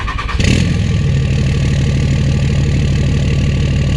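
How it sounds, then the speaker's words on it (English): An old second-generation Dodge diesel truck cold-starts after three weeks unused: a brief cranking burst, then the engine catches and settles into a loud, steady, clattering diesel idle with a deep rhythmic knock. "might as well give you guys a little cold start on this old truck"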